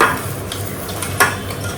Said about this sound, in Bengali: আবার করে তেল দিতে হলো মাথা ভাজতে গেলে তো লাগবেই তো এই মাথাটা ছাড়বো এখন